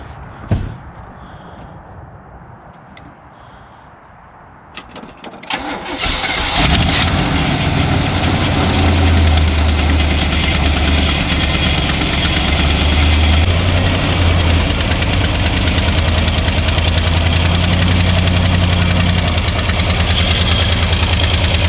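A repaired vehicle engine cranks over after a few seconds of quiet handling noises, catches and settles into a loud, steady, rough idle that runs on close by.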